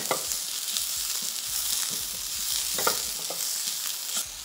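Breadfruit curry with Scotch bonnet pepper, celery and shadow beni sizzles steadily in a hot pot while a spoon stirs it, giving soft scrapes and knocks over a constant frying hiss, close by with no voices.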